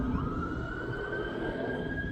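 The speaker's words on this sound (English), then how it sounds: "That's the sirens you hear." Emergency vehicle sirens wail steadily throughout, a sustained tone over a constant wash of traffic and street noise, fairly loud and without speech.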